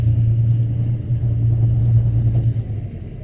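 A low, steady boat motor drone from a Stabicraft 2880 Pilothouse, with a constant hum, running continuously and fairly close, with no voices.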